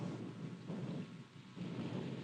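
Thunder rumbles low and heavy over steady rain at an English cricket ground, two broad rolling swells with a brief lull between them, fairly distant and quiet.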